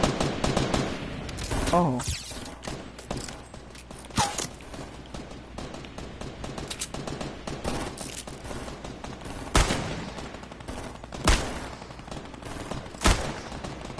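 Video game gunfire crackles in rapid bursts with scattered sharp single shots standing out, mixed with busy background clatter and a short spoken exclamation.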